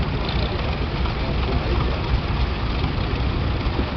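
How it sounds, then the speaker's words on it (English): A diesel McCormick Super WD9 tractor engine idles in a steady low rumble that fills the whole stretch, loud and close, with no break. "Here we have a very immaculate looking McCormick, a diesel driven Super WD9"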